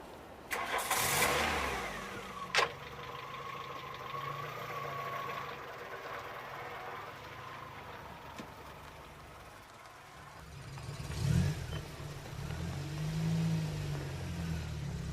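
A car engine starts and the vehicle pulls away, with a mid-pitched engine that revs and fades. The sound comes from a late-1980s setting, is fairly close and stands alone with no talk.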